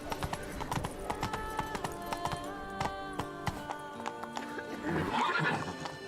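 Rhythmic hoofbeats and a whinny from a galloping horse in The Witcher 3, with clip-clop steps repeating evenly under game music and a louder burst near the end.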